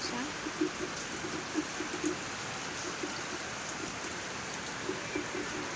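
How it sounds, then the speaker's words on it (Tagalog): Heavy rain from Typhoon Uwan falls steadily in a broad, continuous hiss, with scattered drips and patters and no speech. "ito na yung ulan ni Uwan. Ayan. Malakas na siya."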